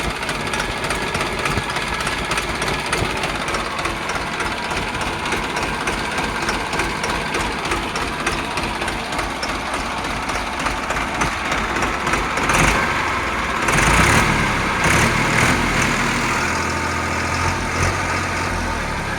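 A Mahindra Bhumiputra or New Holland tractor engine runs steadily with the PTO engaged, a loud, close, continuous rumble that swells briefly before settling again.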